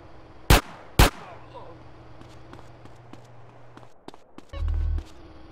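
Two sharp, loud gunshots from GTA San Andreas, about half a second apart, followed by a low steady engine hum, some scattered clatter and a short burst of heavier rumble near the end.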